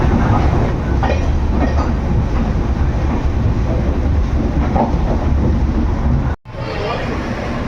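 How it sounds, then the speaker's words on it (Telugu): A train departing a station rumbles steadily from inside a carriage, with faint rhythmic clatter throughout and a brief sharp dropout near the end. "మన ట్రైన్ అయితే బయలుదేరింది"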